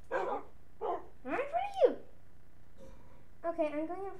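A Minecraft dog gives several short, separate barks and a rising whine, clear and close, with pauses between each call.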